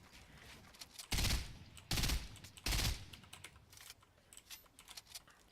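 Three short bursts of gunfire in a battle royale video game, about a second apart and fairly close, with keyboard clatter in between and no speech.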